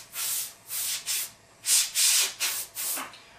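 An airbrush spraying white paint thinned with floor wax to lay marble webbing, heard as a series of about seven short, close hissing bursts separated by brief pauses, with no talking.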